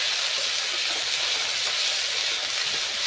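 Spices, dried red chillies and panch phoron, fry in oil over low heat as an even, unbroken hiss of sizzling that holds steady throughout.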